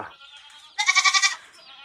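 Young four-month-old goats bleat in a short, loud burst of several wavering calls during foot-and-mouth disease vaccination on a farm, heard close up with a quieter animal sound before it.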